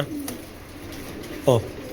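A big Belgian-breed racer pigeon gives one short, close coo over a low background hum.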